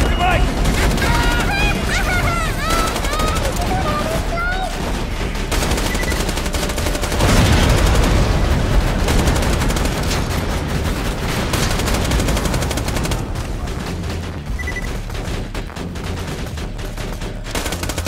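Gunfire in the shooter game Borderlands 2, Captain Scarlett pirate DLC, rattles and bursts steadily through the whole stretch over dense game music and effects, with a heavier blast cluster midway.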